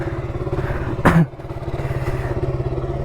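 A 2018 KTM RC200 motorcycle engine idles close by with a steady, pulsing throb, broken by a short clattering thud about a second in before the even rumble resumes.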